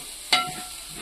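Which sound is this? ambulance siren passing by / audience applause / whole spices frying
whole spices frying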